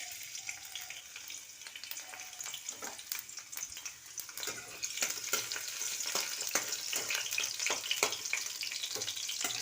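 Chopped garlic sizzles and fries in hot mustard oil in a wok, a steady close crackle with sharp pops that grows busier toward the end, with no talk over it.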